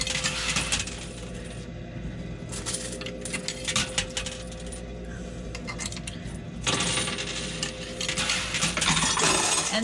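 Inside an arcade coin pusher machine, coins and metal keys cascade and clatter with bright jingling clinks, swelling in bursts at the start, middle and end over a steady background of machine noise.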